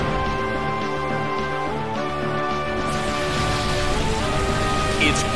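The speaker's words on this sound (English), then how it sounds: "It's pouring rain in the Colosseum." Steady rain pours down in the Colosseum in Pokémon Battle Revolution, a dense hiss layered over looping music with no talking.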